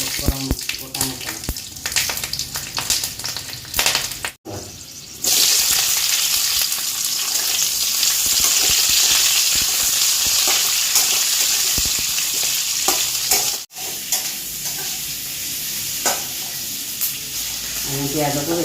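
Onions frying in oil in a pan with chilli and whole spices, a loud continuous sizzle with occasional stirring, briefly interrupted twice, with faint talking in the background.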